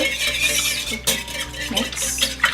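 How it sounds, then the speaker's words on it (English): Pancake batter wet ingredients with a teaspoon of vanilla extract, quickly mixed by hand in a bowl for gluten-free sourdough pancakes: a close, steady run of scraping and clinking strokes with no talking. "I give these a quick mix"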